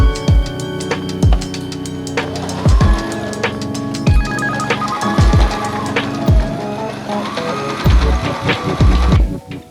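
An electric sewing machine stitches the sides of handmade espadrille sandals, running in repeated bursts with sharp rhythmic needle clatter and low thumps, loud and close, with no talking.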